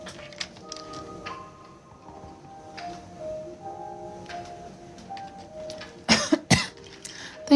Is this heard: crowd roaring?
no